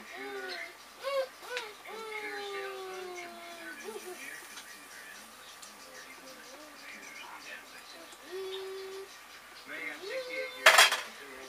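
A spoon clinks and scrapes in a bowl while ground cinnamon is mixed into homemade apple pie filling, the soft stirring sounds mostly sitting under quiet, close voices.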